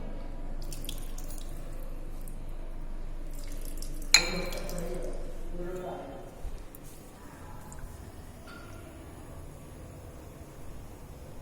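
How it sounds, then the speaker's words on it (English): Water trickles over crude benzimidazole held in a Buchner funnel during a lab wash, a faint dripping and gurgle under low background hum with a soft clink midway. "We can definitely give washing with little amount of water."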